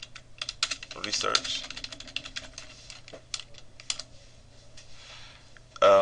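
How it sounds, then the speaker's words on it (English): Typing on a computer keyboard sounds as a close, quick stream of clicking keystrokes in uneven bursts, with a brief spoken word near the end. "Type in big data"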